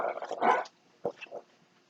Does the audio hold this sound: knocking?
no